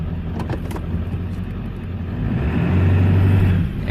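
Ford F350 truck engine idling low and steady in reverse gear after a transmission swap, a close rumbling drone that swells slightly louder and lugs toward the end.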